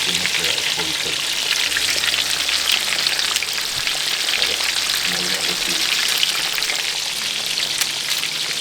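Breaded pork katsu deep-frying in oil at about 380 degrees, a steady dense crackle and sizzle that runs throughout, close and fairly loud, with faint low talk underneath.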